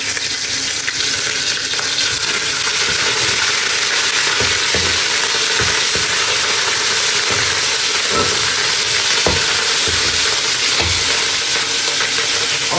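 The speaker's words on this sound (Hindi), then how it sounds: "ये मैं इसमें लहसुन अदरक का पेस्ट डाल रही हूँ।" Garlic-ginger paste fries in cooking oil in a wok, a loud, steady, close sizzle with occasional faint stirring clinks throughout.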